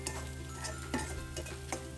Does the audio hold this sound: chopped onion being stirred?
yes